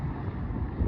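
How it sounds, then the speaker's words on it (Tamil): Wind buffets the microphone at an outdoor friendly cricket match in Qatar, a continuous low rumbling roar that swells slightly near the end, with no voices. "காற்று வேறு அடிக்குது."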